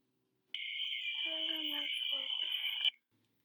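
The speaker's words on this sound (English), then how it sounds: "So there's a little bit of a loud chirping in the background there." Loud, steady high-pitched chirping tone runs nonstop for about two and a half seconds behind a recording, with lower voice-like murmurs showing faintly beneath it partway through.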